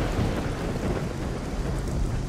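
A heavy thunderstorm in the video game Risen 2: Dark Waters, with dense rain pouring and a deep, continuous rumble of thunder filling the scene at a steady loudness, no voices present.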